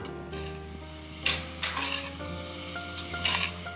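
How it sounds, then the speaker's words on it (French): Sliced endives sauté in salted butter in a pan, giving a soft, steady sizzle with a few light clinks and scrapes of stirring close by. "je vais faire tomber les endives dans un peu de beurre demi-sel"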